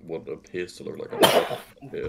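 A single sharp sneeze bursts out in the middle of casual talk, loud and close, with speech continuing right after.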